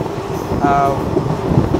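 Silchar Special fare-special train on the Kolkata to Guwahati run, heard from inside an AC two-tier coach as a loud, steady rumble and rattle with a brief squealing tone partway through.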